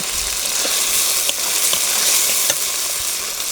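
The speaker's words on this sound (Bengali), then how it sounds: "সামান্য একটু জল দিয়ে মশলাটা কষে নেব" Spice masala for a desi duck curry, with dried chilli paste, cinnamon, black and green cardamom and turmeric, sizzles and is stirred in a pan, a steady close hiss with a few light spatula scrapes.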